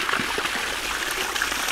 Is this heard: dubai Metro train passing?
no